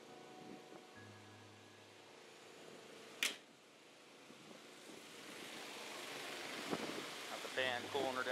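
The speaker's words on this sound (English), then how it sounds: "Fan cooling her down." A fan blows to cool a drag race car at the strip, a soft whooshing rush that grows steadily louder over several seconds, with a sharp knock partway through and faint voices around.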